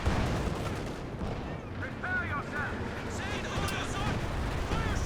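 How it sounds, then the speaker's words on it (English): Artillery fire in a 4v4 match of the strategy game Company of Heroes 2, a dense rumble of booming shells and gunfire running steadily under a commentator's voice. "Artillery being called in."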